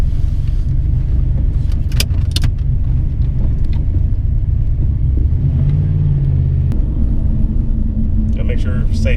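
A turbocharged Fox-body Mustang running 10 psi of boost pulls hard in first gear, its engine a loud, steady low rumble that holds for the whole stretch while people talk over it.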